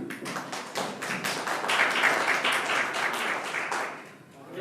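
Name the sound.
audience applause, clapping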